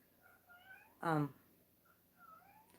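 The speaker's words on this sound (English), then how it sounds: "I have another cat in heat." A female cat in heat meows loudly in one strong, drawn-out call at close range, with quieter vocal sounds before and after it.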